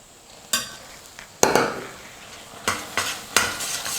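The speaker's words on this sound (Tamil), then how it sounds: "கைவிடாமல் நல்லா கலந்து கொடுத்துட்டே இருங்க." Ground coconut being stirred into jaggery syrup in a pan, a spatula scraping and clattering in several distinct strokes over a soft sizzle, close and fairly loud.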